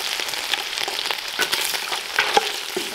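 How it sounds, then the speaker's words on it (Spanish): Meat sizzling steadily in hot oil in a home kitchen, as for Mexican corundas, a dense close crackle with small pops and occasional stirring sounds, no voices. "Ya le falta aceite a esta carne, porque ya está bien cocidita. Yo le voy a poner el aceite."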